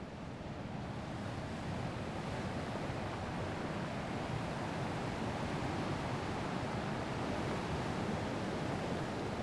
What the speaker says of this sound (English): fall asleep with the sound of distant waves and wind